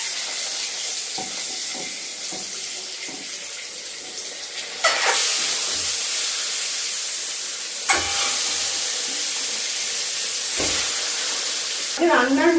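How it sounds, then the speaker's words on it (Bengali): Eggs with turmeric fry in a pan in a home kitchen, a steady sizzle broken by a few sharp louder bursts as ingredients hit the hot oil, with faint clatter and no speech. "তো ডিম ভাজার আগে আমি সবসময়তেই একটু হলুদ দিয়ে নিই"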